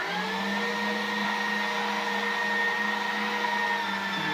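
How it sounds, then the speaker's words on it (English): Electric meat grinder working through beef suet and wild boar, a steady, even motor whine with a constant tonal hum that holds throughout, close and loud with no voices. "I'll grind the beef suet with a medium grind, and then I'm going to come back and grind the wild boar with a thicker grind"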